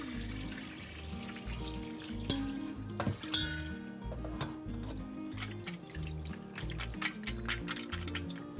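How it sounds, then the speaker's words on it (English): Cooled garden broccoli is poured into a colander in a kitchen sink, with water running and draining steadily throughout and a few splashes and clatters over a low background hum. "I'm going to pour it into a colander and drain."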